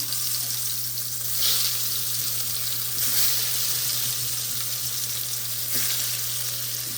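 Slices of fresh eggplant fry in oil, a loud, continuous close-up sizzle with occasional swells as pieces shift, no voices.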